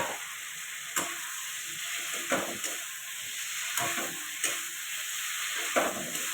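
Potatoes fry in a pan with cumin powder and other spices while a loud, steady sizzle fills the air. Regular stirring scrapes punctuate the hiss every second or so, and no one is talking.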